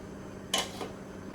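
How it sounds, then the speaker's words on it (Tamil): A short metallic clink of a lid settling onto a pot of boiling ridge gourd kootu, with a softer second tap a moment later, in a quiet kitchen. "மூடி போட்டுருவோம்"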